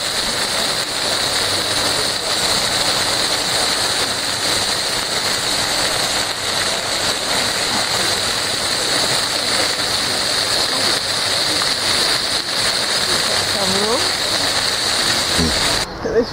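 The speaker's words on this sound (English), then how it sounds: "On this one there's a water fountain, which is, you can see the water building up." Garden water fountain splashing steadily outdoors in Seahouses, a continuous rushing spatter near and fairly loud throughout, with people talking faintly beneath it.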